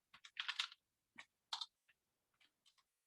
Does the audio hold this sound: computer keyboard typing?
yes